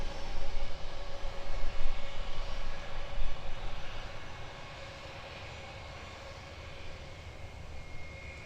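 An Airbus A321 airliner at Gold Coast Airport gives a loud, broad engine roar up close for the first few seconds, then fades to a steadier, quieter rumble as it moves away.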